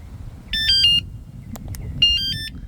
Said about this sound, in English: this alarm system is right here